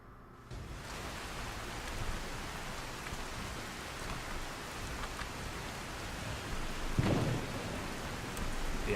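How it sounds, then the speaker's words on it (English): Torrential rain pours in a Legend of Zelda video game, a dense steady roar of heavy downpour swelling slightly, with a low rumble of thunder near the end and no voices. "And this torrential rain"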